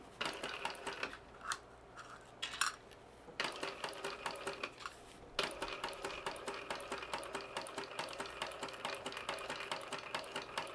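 A sewing machine runs steadily while stitching the wider seam allowance of a fabric wristlet, with brief pauses early on before a continuous rapid mechanical whir, close and moderately loud, with no talking.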